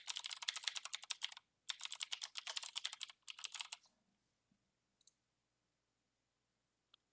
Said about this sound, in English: Just type in your email here and click Check Names.